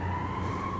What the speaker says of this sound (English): listen to sirens in the far-off distance